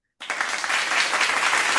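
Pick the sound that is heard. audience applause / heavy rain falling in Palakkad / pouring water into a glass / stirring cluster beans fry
audience applause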